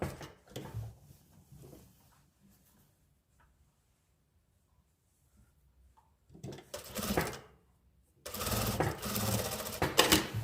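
Short bursts of sewing machine stitching a U-shaped seam on a sailor-collar dress with ordinary thread, a brief run near six seconds and a louder sustained run from about eight seconds, after a quiet stretch.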